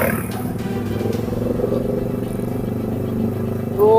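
A motorcycle ridden along a road, steady close engine drone with rattly clatter and wind rush, a brief rise near the end, voices faintly underneath.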